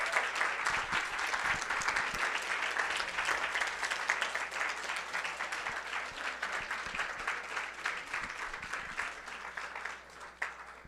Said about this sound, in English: give a round of applause to all 3 speakers